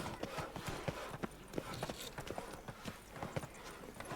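Hoofbeats of the horse Roach in the video game The Witcher 3: Blood and Wine, a quick regular clip-clop trot on a road, close and even throughout, with no talk.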